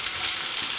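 Okra (vendakkai) sautéing in a pan for a milk curry, giving a steady, close hiss of frying that holds evenly throughout the short moment with no talk.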